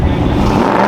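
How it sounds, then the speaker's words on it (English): A car's exhaust note is heard as it pulls away from a Cars and Coffee meet in Tucson: a loud, steady, continuous engine rumble held close to the microphone for under a second. "now we get to hear all these exhaust notes"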